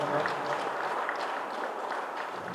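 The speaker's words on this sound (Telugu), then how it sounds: "గట్టిగా చప్పట్లతో ధన్యవాదాలు తెలియపరుచుకున్నాం" Audience at a one-day workshop clapping loudly in thanks, an even, continuous patter of many hands at moderate distance throughout.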